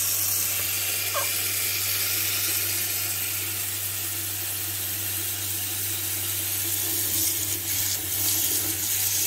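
Tap water runs steadily into a sink as plums are rubbed clean by hand, a constant close hiss with faint splashing and a steady low hum beneath it.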